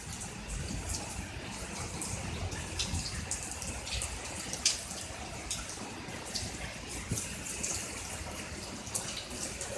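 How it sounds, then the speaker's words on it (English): Heavy rain pours down during a tornado storm, a dense, steady hiss with scattered drips and splashes close by. "It's hard to hear the rain, but there's a lot of it."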